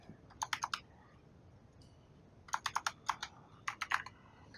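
Keys clatter on a computer keyboard as a search term is typed into Outlook, coming in three quick bursts of close, crisp clicks with short quiet gaps between them.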